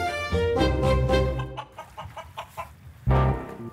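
Chickens collected during a timed paddleboard lap challenge give loud, close clucking squawks in several drawn-out bursts, with one more sharp cluck after a short pause.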